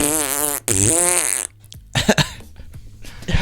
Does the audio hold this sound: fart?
yes